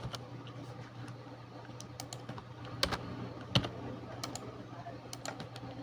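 Scattered keystrokes on a computer keyboard while HTML heading tags are typed, with clicks landing irregularly over a steady low hum and two sharper key strikes standing out midway.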